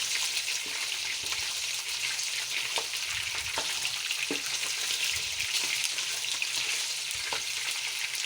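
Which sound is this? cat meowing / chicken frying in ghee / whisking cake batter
chicken frying in ghee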